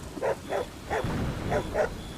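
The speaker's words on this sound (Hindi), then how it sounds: "आसपास कुत्तों के भौंकने की आवाजें गूंज रही होती हैं" Dogs bark in a rainy, stormy night scene, about five short muffled woofs in an uneven rhythm, moderately near over a low background rumble, with no talking.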